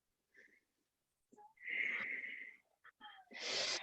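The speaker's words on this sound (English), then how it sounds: "That's a little bit more of a rapid breath." Quick, forceful breaths during a yoga session, several short bursts of breathing with noisy airy exhales, close and fairly loud, with brief pauses between them.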